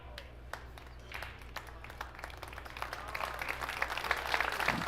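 An audience at the Predator WPA Men's World 10-Ball Championship final applauds a pool shot, scattered claps quickly swelling into steady, building applause from a nearby crowd.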